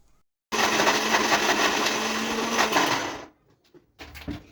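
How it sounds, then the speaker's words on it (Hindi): A mixer grinder coarsely grinding dry fruits whirs loudly for about three seconds after a brief silence, then stops, followed by a few faint clattering knocks. "इन सबको मैं मिक्सी में दरदरा पीस लूँगी"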